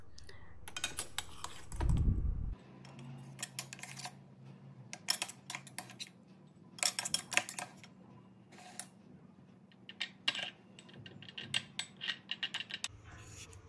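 A metal spoon presses and taps crushed peanut powder in a bowl, making a run of irregular close clicks and scrapes with a brief low thump early on.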